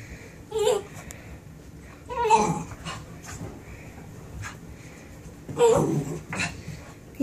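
A dog whimpers and whines in a few short, high-pitched bursts separated by quiet pauses, close by.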